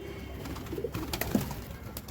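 A Deshi Golla pigeon near its loft gives a soft, brief coo against a dull background hum.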